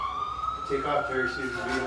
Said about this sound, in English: we could hear the sirens here as we're in town here as we go in Laporte